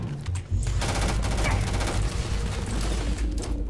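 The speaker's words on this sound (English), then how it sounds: "Another grenade, I think." Starfield combat with a grenade blast and gunfire: a thump near the start opens into a dense, loud barrage of rapid shots and booms that continues throughout.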